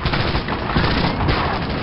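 Dense, loud machine-gun fire rattles continuously during a beach assault on Nazi fortifications in Medal of Honor: Allied Assault. Overlapping bursts blend into one unbroken fusillade with heavy low-end rumble.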